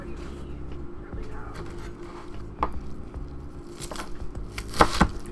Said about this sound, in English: but this one you can actually hear chopping through.